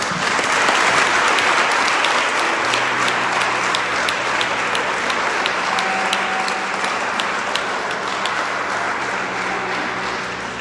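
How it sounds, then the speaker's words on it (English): A congregation at a Sunday deliverance church service claps steadily and energetically for about ten seconds. The dense, close applause stays even throughout, with a low hum and faint tones underneath. "Clap for Jesus."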